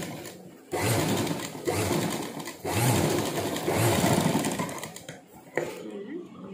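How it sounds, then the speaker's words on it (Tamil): A sewing machine stitching a blouse runs in loud, close bursts of rapid whirring, stopping briefly between runs and starting again three times. "அதை என்ன பண்ணணும்னா மிஷினில் ஒரு தையல் போட்டணும்"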